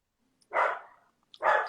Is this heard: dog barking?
yes